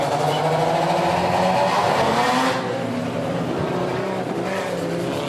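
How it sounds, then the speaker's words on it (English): A rotary-engined stock car races on its opening lap, its engine a loud, continuous buzzing drone that holds steady, then eases slightly as the car moves off. "You may hear the noise of a rotary engine behind us as we fire off for the first lap of the heavy metals"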